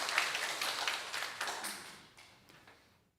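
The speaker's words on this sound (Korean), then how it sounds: "한번 축하 박수 한번 보내주시기 바랍니다." Church congregation giving a brief round of applause during a Sunday service, a scattered patter of clapping that fades away within a few seconds.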